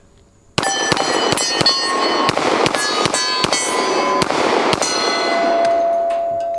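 A Smith & Wesson M&P 10mm pistol fires about eleven loud, sharp shots in quick succession, each with a short echoing crack, after a quiet start outdoors.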